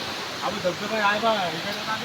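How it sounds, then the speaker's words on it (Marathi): Water pouring down a village waterfall beside a footbridge in rural Konkan, a steady broadband rush heard close under a voice talking over it. "हे बघा किती सुंदर प्रकारे आमच्या धबधबे पाणी वाहत आहे."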